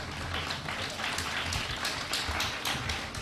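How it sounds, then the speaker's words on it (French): Applause from an audience at a student festival: a dense, steady wash of many hands clapping that holds at an even loudness, with no voices standing out over it. "Je vous demande de les ovationner plus fort que cela."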